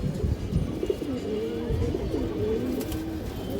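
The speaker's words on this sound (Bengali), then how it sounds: "আপনারা দেখেন কালো বাঘা কবুতর দর্শক" Black Bagha pigeons coo close up in a series of low, rolling, throaty calls that repeat steadily across a few seconds, with faint handling noise around them.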